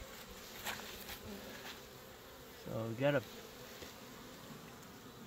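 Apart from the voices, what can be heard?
honey bees buzzing at an open hive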